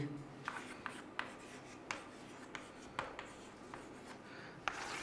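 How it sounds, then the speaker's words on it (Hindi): Pen or chalk writing during a chemistry lesson on cathode rays: a string of quick, faint tapping and scratching strokes at irregular intervals, close but quiet over low room hum. "तो कंक्लूजन लिखेंगे"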